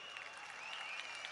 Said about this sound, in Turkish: Ve HKP'ye büyük bir alkış.